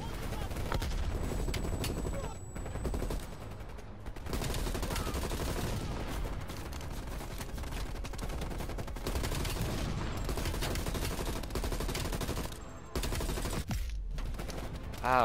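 Dense, sustained video game gunfire, near and loud, rattling almost continuously with brief gaps, with a voice occasionally talking over the shooting.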